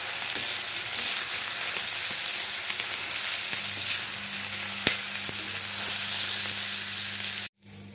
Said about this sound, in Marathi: आणि याला चांगलं परतून घेऊया